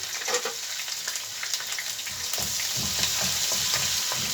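Garlic frying in oil for a spaghetti sauce, a steady close sizzle and crackle that builds slightly louder over a few seconds, with no talking.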